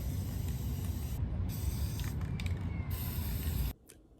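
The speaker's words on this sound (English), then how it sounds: "I'm gonna spray them down with an acrylic coating real fast" An aerosol can sprays acrylic coating onto plant pots in a steady close hiss, broken into several long bursts with short pauses, then stopping abruptly.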